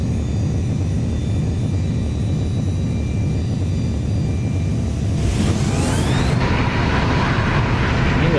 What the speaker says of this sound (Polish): Tylne koła dotykają ziemi i od razu spoilery wychodzą, żeby dociążyć samolot.